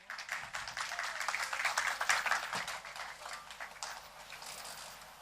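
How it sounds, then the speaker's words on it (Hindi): Loud, dense audience applause at a Hindi literary festival panel on Dalit and tribal women's writing, greeting speakers as they take the stage; steady crowded clapping throughout with no speech over it. "आप सभी जोरदार तालियों के साथ उनका स्वागत कीजिए"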